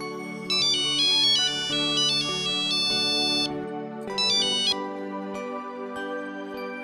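A phone ringtone plays a bright electronic melody of repeated high tones in a domestic drama scene, ringing steadily for several seconds with a short pause near the end, with no voices.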